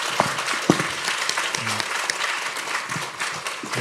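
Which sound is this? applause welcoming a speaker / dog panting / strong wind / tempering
applause welcoming a speaker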